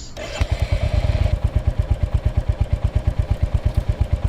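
A motorbike engine in an Indian GTA-style Android mobile game runs with a steady, rapid thumping beat that gets loud after a short start and keeps pulsing evenly throughout, with no voices.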